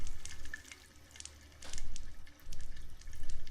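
Water gurgles into an RV toilet bowl in short bursts of splashing flow separated by quieter pauses, close and fairly loud.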